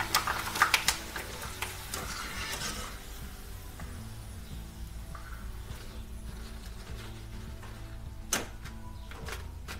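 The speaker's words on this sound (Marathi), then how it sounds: "मी सर्व वेपर्स अशाच पद्धतीने तळून घेते" Thin potato wafers fry in hot oil, a soft hiss most noticeable at first that then settles into a faint, low background bubbling, with a couple of light clinks.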